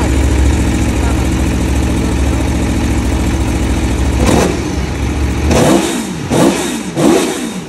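Close, loud idle from a 2022 Aprilia Tuono V4 Factory 1100 on its homologated exhaust, then three sharp throttle blips that rise and fall in quick succession.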